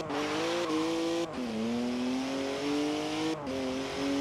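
A BMW Z4 M races laps of the Edinburgh Grand Prix in the video game Forza Horizon 4, its engine rising through the revs with short drops at each gear change, loud and close.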